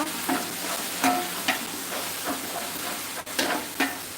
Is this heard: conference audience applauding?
no